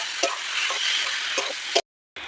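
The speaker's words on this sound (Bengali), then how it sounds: "এবারে ভালোভাবে নেড়ে নেব।" A spoon stirs boiled dal into fried tarka in a pan, giving four scraping strokes over a soft, steady sizzle before a brief drop to silence.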